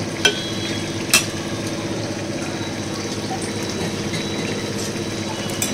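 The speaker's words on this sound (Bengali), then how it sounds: "আর তার সঙ্গে আমি দেব হচ্ছে অল্প জল মেশাবো। এইটা আমি গুলিয়ে নেব।" Rice flour being stirred into a little water in a bowl, a steady soft swishing and scraping that runs continuously with a few brief clicks, close by and without talk.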